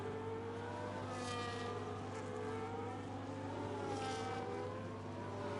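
An Aston Martin race car in an online F1 racing game pulls out of the pits at Silverstone, its engine a steady high whine with rising and falling pitch sweeps, faint and continuous against a constant low hum, with no talking.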